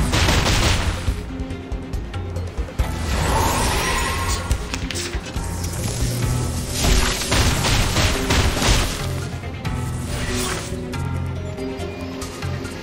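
Dense, continuous gunfire from the game Reverse: 1999, rapid shots and crashes layered over a busy, loud game soundtrack with no pauses.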